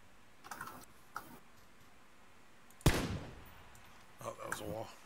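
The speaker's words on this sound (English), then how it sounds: "Pretty sure they're shooting at us." Gunfire in PlayerUnknown's Battlegrounds: a few faint, distant shots early on, then one sharp, louder crack in the middle, with people talking around it.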